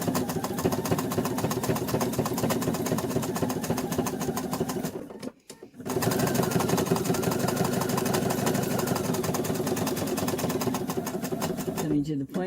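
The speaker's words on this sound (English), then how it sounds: "I'm going to take a couple of stitches because this is a sharp point." A sewing machine satin stitching an appliqué runs in a steady, loud, fast whir, cutting out briefly for a pause at a sharp point before resuming at full speed.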